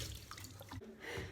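A homemade clay cleaning stone is rinsed under running tap water, a soft continuous splashing and trickling that briefly dips before resuming, close but fairly quiet.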